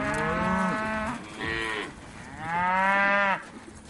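Cattle in a herd in New Caledonia mooing in long, drawn-out calls, three loud bellows close by with short pauses between them, the last the strongest.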